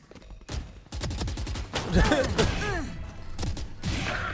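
Rapid gunfire in the video game Valorant, with dense bursts of shots and bullet impacts that run almost continuously, loud and close, while someone talks over parts of it.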